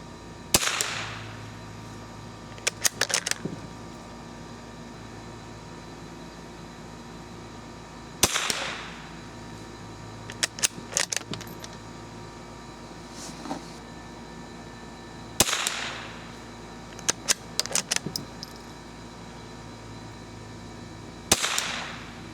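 A Remington Model 582 rifle fires SK Standard Plus rounds at a target outdoors: four sharp, loud single shots spaced several seconds apart, each followed by quick metallic clicks of the action being worked.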